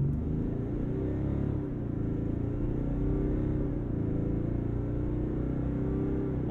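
A 2022 Cadillac Escalade diesel in sport mode pulls hard from a standstill, its engine a steady, loud low rumble that builds and holds throughout without any talking.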